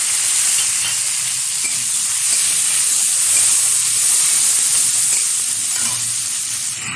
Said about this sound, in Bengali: হালকাভাবে ভেজে নিচ্ছি।